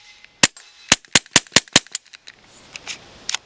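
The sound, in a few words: gunshot from Taurus TX22 Gen2 pistol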